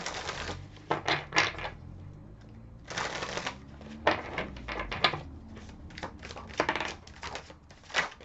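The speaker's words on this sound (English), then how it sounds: "Okay, let's do another shuffle here." Tarot cards are shuffled in several quick riffling bursts, crisp and close, separated by short pauses with soft handling noises in between.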